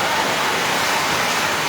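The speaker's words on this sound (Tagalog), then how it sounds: "Ang lakas ng ulan." Torrential storm rain with strong wind in Taytay, Quezon, pours as a dense, steady roar, loud and close, with no voices.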